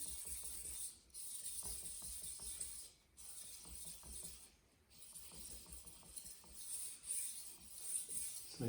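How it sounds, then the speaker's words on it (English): A Yaxell gyuto's secondary bevel polished on Japanese waterstones: steady, quiet rhythmic scraping strokes repeating continuously, with a few short pauses between passes and an airy hiss over everything. "polish up that secondary bevel I put on there"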